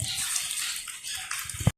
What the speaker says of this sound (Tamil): இப்போ நாங்கள் தேவையான அளவு தண்ணி விடுவோம்